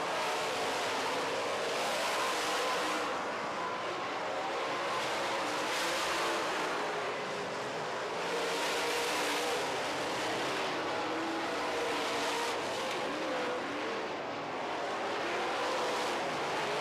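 Late model race cars howl around the track during a feature race, engines swelling and fading in waves as the cars pass one after another in a continuous roar.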